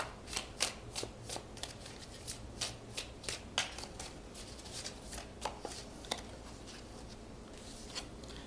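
Tarot cards are shuffled by hand in a quiet room, a run of crisp riffling snaps and soft slaps in an uneven rhythm, close and moderately quiet with no talk.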